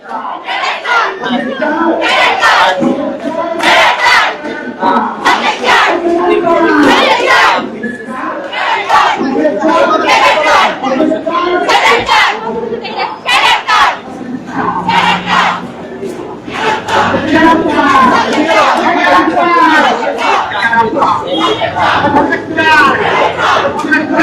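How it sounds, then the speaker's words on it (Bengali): Protesting university students in Dhaka chant slogans while marching: a large crowd roars rhythmic call-and-response slogans, loud and near, with barely a pause across the whole stretch. "আমরা দেখছি যে তারা কিন্তু বিভিন্ন স্লোগান দিচ্ছেন"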